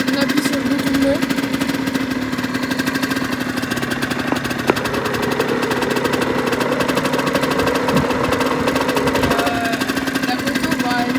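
A Yamaha DTX 50 motorcycle engine runs steadily and loudly up close for the whole stretch, with a constant buzzing drone and wind noise mixed in outdoors.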